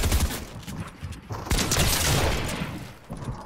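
Pump shotgun fire in a video game: a loud, sharp blast about halfway through, set among a dense, noisy mix of other game action.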